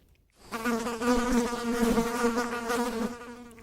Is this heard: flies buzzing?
yes